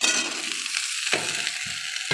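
Ridge gourd pieces drop into a pan of browned onions, setting off a bright, loud hiss that keeps crackling steadily, with a few sharper bursts along the way and no speech.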